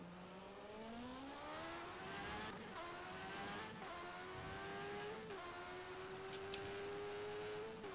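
A Ferrari Formula 1 race car engine in the rFactor racing game, set in the 1991 Spanish Grand Prix, screams at high revs, climbing and dipping with gear changes in a continuous close, loud whine.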